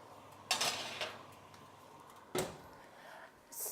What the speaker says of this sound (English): just put them in the middle of the oven.